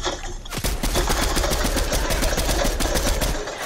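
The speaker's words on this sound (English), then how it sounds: "We're getting shot from like every direction." Bursts of automatic gunfire in Fortnite rattle in quick, dense succession after a brief quiet start, loud and continuous like several weapons firing at once, without any voices.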